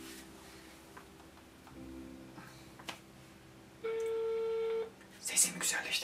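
A telephone ringback tone played over a speakerphone, a single sustained tone lasting about a second amid quiet room noise, followed by brief clatter and voices.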